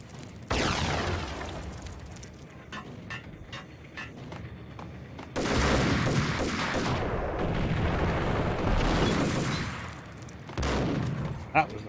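Shotgun blasts from the video game Max Payne, heavy booming shots arriving in three loud bursts spread across a dense, noisy game soundscape, with quieter thuds and clatter between them.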